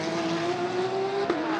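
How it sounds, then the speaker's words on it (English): Porsche race cars in the Macau Grand Prix braking hard into Lisboa corner, a loud sustained engine drone with a steady high whine and a brief sharp burst near the end. "Vanthoor with the Tsingtao Beer backed car, coming down towards Lisboa, hard on the brakes, dive right."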